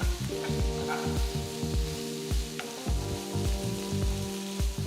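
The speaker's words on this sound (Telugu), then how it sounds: "తరిగిన నాలుగు ఉల్లిపాయలు వేసి వేయించాలి వీటిని బాగా కలిపి రెండు మూడు నిమిషాలు వేయించాలి" Four chopped onions fry and sizzle in a pan while being stirred, making a continuous close crackle with rhythmic scraping strokes.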